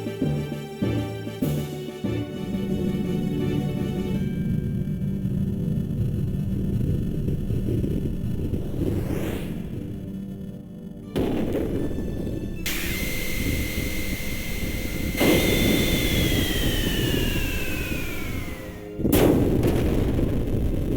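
The Big Bang special attack from the Xenogears video game plays as a long, loud roaring blast of explosive noise, with sharp cuts, rising and falling tonal sweeps, and a final burst.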